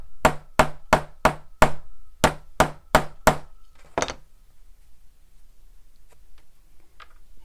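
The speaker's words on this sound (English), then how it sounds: "Hammer the hole." A hammer strikes a punch through material to make a hole for a bowler bag, with ten sharp, evenly spaced blows in two quick runs, close and loud, then a softer knock and a quiet room.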